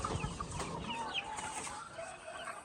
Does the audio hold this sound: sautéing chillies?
no